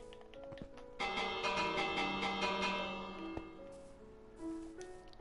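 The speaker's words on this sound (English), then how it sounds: "Do you hear the bell?" A bell rings in the Minecraft video game, clear steady tones sustained over soft tapping and clicking game sounds, with no talking.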